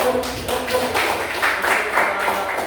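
Classroom applause during a Catholic religious education lesson, a steady stretch of quick overlapping claps from a group of students, fairly close and even in loudness throughout.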